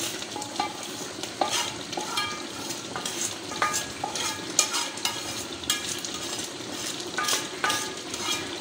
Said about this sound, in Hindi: तो दोस्तों ये मैंने मसाला रोस्ट किया इसमें घी में,